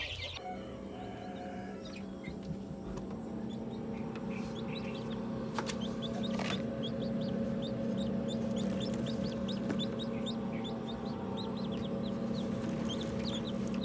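Newly hatched chicks peep continuously in high, thin chirps while chickens cluck nearby, all over a steady low hum in a backyard poultry setting.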